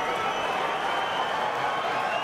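A capacity crowd of over 16,000 at a Jean Pascal boxing match roars in a steady, dense wall of cheering that holds loud and unbroken throughout.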